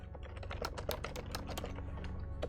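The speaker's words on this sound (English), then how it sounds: "I can type." Rapid, close clicking keystrokes on a new computer keyboard, alone and in an uneven, quick rhythm.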